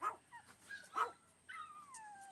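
Dogs outdoors during a power outage give short yips and barks followed by thin drawn-out whimpering whines, fairly faint and distant against a quiet background.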